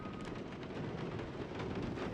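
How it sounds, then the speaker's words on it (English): Heavy rain in the video game Guardians of the Galaxy, a dense continuous hiss and rumble like a downpour with wind, steady and loud throughout with no talking. "Of course, it had to be raining."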